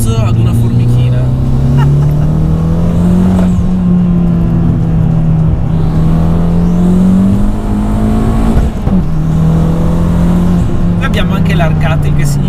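Fiat 500 Abarth tuned to 305 hp accelerating hard, a loud, close engine roar climbing in pitch through the revs, dipping briefly at a gear change around nine seconds, then pulling again to the end.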